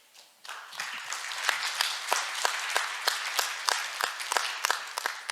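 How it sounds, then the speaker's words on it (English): Audience applause at an international intellectual property court conference, a dense patter of many hands clapping that starts abruptly and holds steady and fairly loud for several seconds, with no talk over it. "Would you give him a big applause?"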